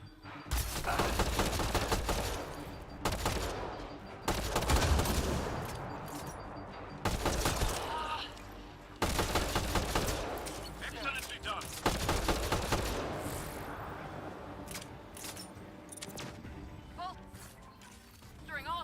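Gunfire in a Mass Effect Andromeda firefight: repeated loud bursts and volleys with crashes and mechanical clanks, broken by short lulls, as voices talk over the combat.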